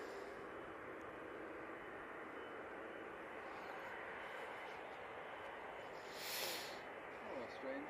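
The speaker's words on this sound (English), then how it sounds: "we do have an arrival. And this is the Easyjet." An easyJet airliner arriving at Manchester Airport, its engines a steady broadband roar held at even loudness for the whole stretch, with a brief swell near the end.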